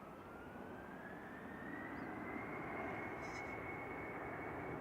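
An airliner departs Manchester Airport for Paris CDG with a broad, rising engine roar and a climbing whine, distant but swelling.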